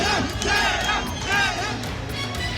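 Massed supporters in Mandi chant slogans in rhythmic swelling waves during Kangana Ranaut's nomination procession, loud and close, each call rising out of a constant crowd roar.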